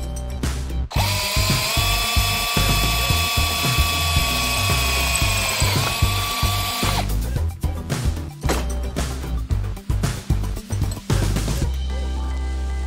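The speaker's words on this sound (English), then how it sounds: "just drill a hole right here in this center section" A power drill whines steadily while boring a hole into an aluminum bracket, then gives way to a series of sharp clicking and ratcheting bursts, close and loud.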